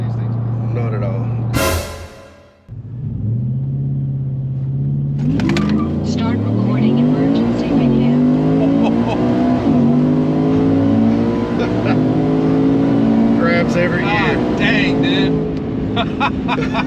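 An 800 whp pickup truck launches hard, with a brief tire chirp followed by a loud engine roar whose pitch climbs steadily through the gears. The recording is close and sustained, and there is no talk over it.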